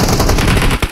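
A PP-19 Bizon submachine gun firing in PUBG Mobile, a brief loud burst of rapid automatic shots up close, ending with a couple of separate final rounds.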